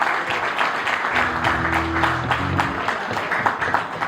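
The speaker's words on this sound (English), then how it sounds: "A big round of applause for them, please." Loud, sustained applause from a sizable crowd at an anniversary celebration fills the space, with background music tones running underneath the clapping.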